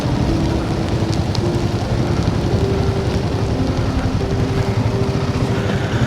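Steady broadband wash of rain mixed with the drone of a Himalayan 450 motorcycle riding through a snowy Himalayan valley near Tawang, continuous and close, with a faint engine tone holding throughout and no talk.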